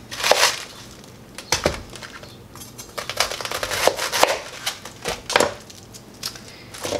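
A knife cuts cabbage finely on a board with irregular crisp chops and crunches, near and fairly loud, with no talking.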